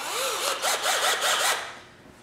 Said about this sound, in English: And you're going to drill another hole.